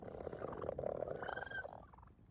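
A male turkey gives a low, throaty burp-like gobble as its air sac is squeezed, one rough rumbling call lasting about two seconds, close and fairly quiet, trailing off at the end.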